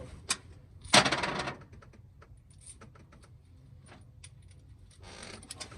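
Metal washers being handled: a few sharp metallic clinks and jingles, one louder rattling burst near the start and another cluster near the end, with quieter taps in between, close and without talk.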